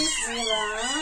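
A week-old orphaned kitten meowing, one continuous close, high wavering cry that rises and falls without pause.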